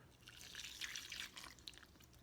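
Lukewarm milk poured into a pan over a low flame, a soft, quiet trickle and splash lasting about two seconds.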